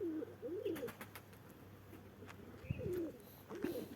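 Pigeons coo softly in a few rolling, throaty calls spaced apart, faint against a quiet background with an occasional light chirp.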